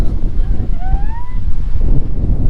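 Strong wind gusts rumble roughly against the microphone by the ocean aboard a BC Ferries crossing to Victoria, British Columbia, a loud continuous roar with a faint whistling tone and brief murmured voices.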